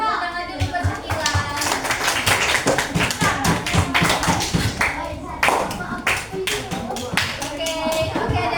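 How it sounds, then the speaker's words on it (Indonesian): Elementary schoolchildren applaud their classmate Sakila in a classroom, a dense, steady burst of many hands clapping that lasts throughout, briefly thinning and then surging again, with some voices mixed in. "tepuk tangan dulu buat Sakila"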